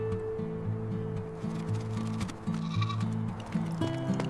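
Mountain goats on a steep cliff bleat repeatedly in near, wavering calls, several overlapping bleats with short gaps, loud against faint wind and rustle, no talk.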